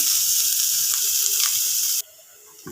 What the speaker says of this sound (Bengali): এখন ভালো করে নেড়ে চেড়ে পেঁয়াজগুলো হালকা ব্রাউন কালার করে ভেজে নেব।